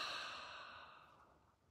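A single slow, deep exhale during triangle breathing, a soft breathy rush that starts fairly loud and fades gradually over nearly two seconds, close and alone.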